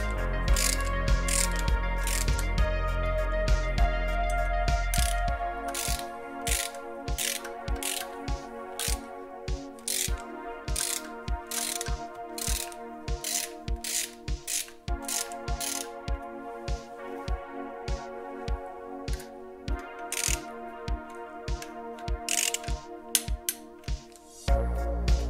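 Steady rapid clicking of a ratchet tightening bolts on a VR6 engine cooling system, close and continuous with brief pauses, alone without speech.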